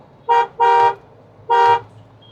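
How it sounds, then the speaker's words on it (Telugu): Three loud Mahindra Thar horn honks, two close together then a third after a short pause, blaring clearly with no talking. "ఇదైతే మన హారన్ ఇప్పుడైతే మీకు వినిపించుంటే"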